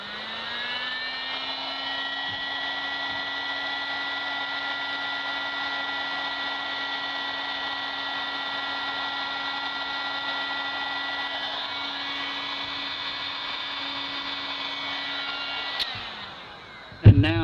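Hot air blowing heat shrink tubing down over a soldered wire joint, a steady whooshing blower roar that runs unbroken for about sixteen seconds, then cuts off with a short clatter at the end.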